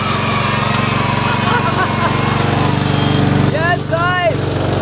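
Small mini tractor engine running just after starting, a steady buzzing putter close by that holds through the clip, with voices talking over it near the end.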